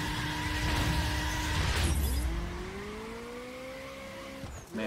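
A Ferrari F40's high-revving engine in a video game roars loudly, then shifts and climbs steadily in pitch as it accelerates, with a brief tire screech near the start.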